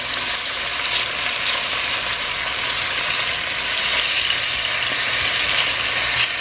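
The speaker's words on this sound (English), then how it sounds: "Just to get an idea how long to fry the garlic and pimento." Garlic and pimento fry in a pan toward golden brown, producing a continuous, even hiss of sizzling oil, close and fairly loud, with no talking.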